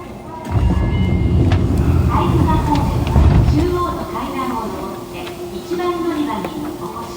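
A Fukuoka City Subway 2000 series train, set 23, with late-model Hitachi GTO-VVVF drive and an abnormal noise, runs under manual operation with a loud low rumble and whining motor tones that ease down, while station announcements play over it.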